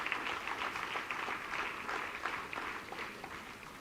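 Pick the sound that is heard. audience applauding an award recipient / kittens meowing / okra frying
audience applauding an award recipient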